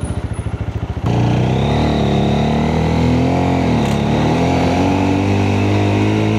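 Motorcycle engine revving hard in first gear around 6000 RPM while climbing a hill past Ruma Bazar, loud and steady after an initial idling putter.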